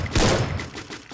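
A single sharp gunshot bursts out, followed by a short rattling tail, gunfire in the game Free Fire.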